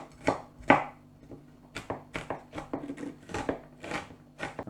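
Ginger and garlic being finely chopped by knife on a board, a quick uneven run of sharp close taps over several seconds with no talk.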